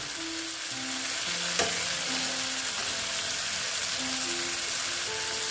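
Pieces of boal fish frying with spice paste in a pan, a dense continuous sizzle that stays loud and close throughout, with one brief sharp clatter partway through and no talking.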